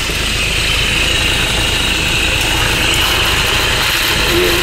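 A Toyota Innova with a magnetic clutch air-conditioning problem runs at idle after its air cleaner is refitted. The engine drones loudly and evenly throughout, close by, with a faint high whine on top and no speech.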